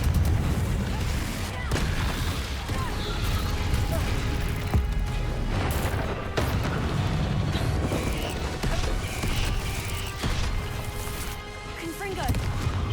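Confringo fire spells explode repeatedly during a Hogwarts Legacy battle with a giant spider, with dense booming blasts and crashes layered over constant game combat noise and a talking voice.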